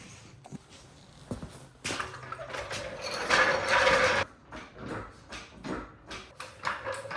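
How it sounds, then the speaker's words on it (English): A ratcheting jack raises a supercharged Corvette C6 Z06, giving repeated metallic clicks and clanks, close and fairly loud, with a denser mechanical burst in the middle and no talking. "So let's go ahead and get to getting this car up."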